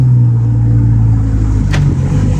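A Ford Focus ST fitted with a green air filter and a Steeda intake pipe drones with a loud, steady engine rumble heard from inside the car while driving.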